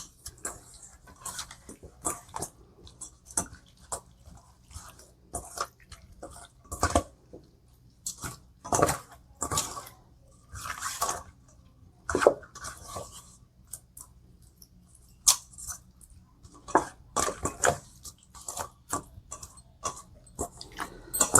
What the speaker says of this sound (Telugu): ఇప్పుడు మ్యారినేషన్ చేసుకుందాం అండి కలిపేసుకుందాం బాగా